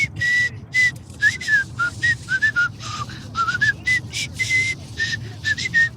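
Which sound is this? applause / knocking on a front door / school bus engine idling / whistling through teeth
whistling through teeth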